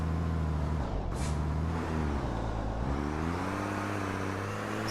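Loud RC race trucks at an RC race-of-champions event roar close by with steady, buzzing engine drones whose pitch dips and climbs as they drive, with no talk.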